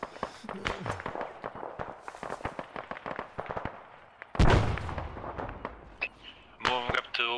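A frag grenade goes off in the military shooter Arma 3, a single loud burst partway through, set among rapid gunfire cracks before it and more shots and voices after.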